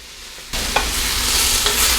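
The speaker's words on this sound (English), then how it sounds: "We're going to let this fry for about 3 to 5 minutes," Red cabbage frying in oil in a large pan, a steady loud sizzle that jumps up sharply partway through, with a couple of brief stirring scrapes over the continuous hiss.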